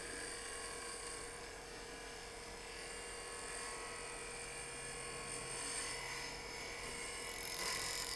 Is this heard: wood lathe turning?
yes